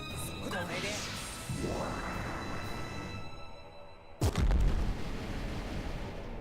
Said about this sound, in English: The explosions.